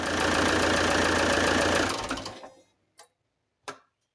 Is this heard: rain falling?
no